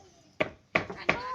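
Wild boar meat being chopped on a board, three sharp knife thuds spaced evenly apart, close and distinct against a quiet background.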